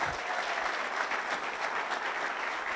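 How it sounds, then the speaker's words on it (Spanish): A church congregation claps together during a pastor's sermon, a continuous, even wash of many hands applauding throughout. "Aplauda."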